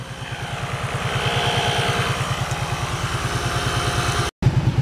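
A cheap 12-volt air compressor pumps up an ATV tire fitted with a tube, chugging in a fast, even pulse that is loud and close, cuts out briefly near the end, then resumes.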